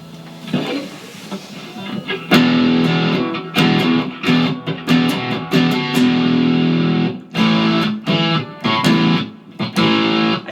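A heavily distorted electric guitar, a 2021 Kramer Baretta Special at full gain, plays loud, gritty chords and riffs in bursts with brief pauses, after a quieter opening.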